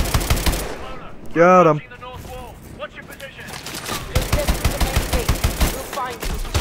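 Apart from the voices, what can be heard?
gunfire from behind in Call of Duty Advanced Warfare video game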